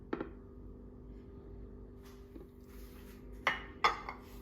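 A plate tapped gently to release a caramel bread pudding from its mold, heard as a few sparse, light ceramic knocks and clinks in a quiet kitchen, with sharper taps near the end.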